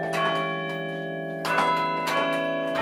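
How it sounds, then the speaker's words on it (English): Church bells ring out with long, sustained tones, each strike blooming and then slowly fading away before the next struck peal returns, fairly clear and free of talk. "the sound of a bell doesn't just ring and quit. It rings and then it fades away"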